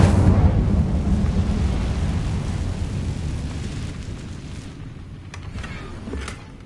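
A roaring whoosh of fire from an Incendio spell in Hogwarts Legacy, loud and broad at first, then slowly fading and crackling away over several seconds.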